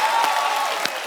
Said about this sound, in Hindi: जोरदार तालियां एक बार मान साहब के लिए